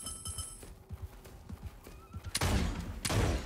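A horse in a video game whinnies and clops its hooves, with scattered thuds and bursts of gunfire-like cracks; two loud bursts near the end, no talking.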